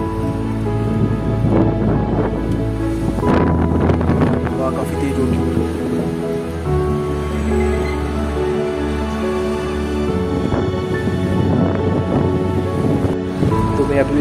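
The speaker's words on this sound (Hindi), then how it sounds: "बड़ी अच्छी हवा चल रही है जम्मू में" Strong wind blows outside an open window in Jammu, with loud, steady buffeting and rushing across the microphone that swells and eases without stopping.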